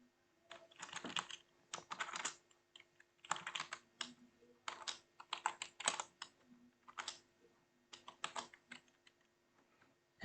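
Rapid bursts of computer keyboard typing as code is entered, clustered key clicks in short flurries separated by brief pauses, close and fairly quiet with no talking.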